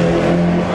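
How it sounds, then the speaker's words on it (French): A vintage car passing on a race track at a classic car meeting, a brief loud engine roar with steady droning tones, close by and filling the whole moment. "il y a les voitures qui passent"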